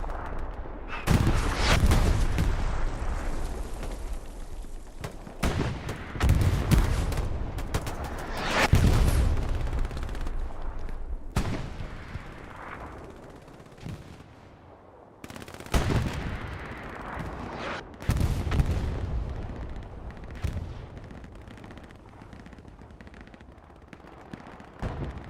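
Hell Let Loose gunfire during a competitive match on the Kharkov map: repeated loud rifle and machine-gun bursts and heavier booms come in clustered waves over a constant background of battle noise.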